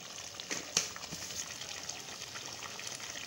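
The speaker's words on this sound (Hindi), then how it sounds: "अब मैं पानी डालने लगी बस" Water poured into a cooking pot of arvi gosht (taro and meat curry), a steady gushing splash close by with a brief stronger burst near the start, no talk over it.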